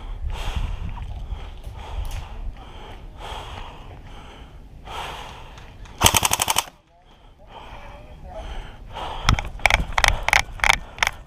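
Airsoft AK rifle gunfire crackles in short rapid bursts during an indoor close-quarters elimination match, one loud burst midway and several sharp volleys near the end, with heavy breathing and scuffling between.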